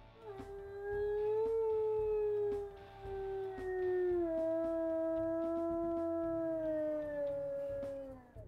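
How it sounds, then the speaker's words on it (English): A she-wolf in the video game WolfQuest howls, two long, clear, tonal howls with slowly sliding pitch, the first rising then falling and the second held longer as it drifts down, heard up close over a faint low background. "Let's listen to her howls as well."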